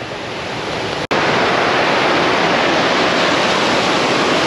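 Mountain water in the Engadin near Guarda rushes steadily in a loud, close, broadband roar, with a brief break just after the first second before the flow resumes unchanged.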